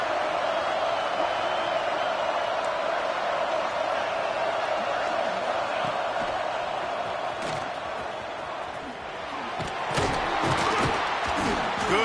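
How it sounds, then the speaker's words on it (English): A football stadium crowd roars continuously as its team's defense plays, a dense, loud wash of voices that swells again near the end with scattered thumps and shouts, a commentator speaking over it. "Listen to this crowd just shaking the girders of this place trying to help their defense."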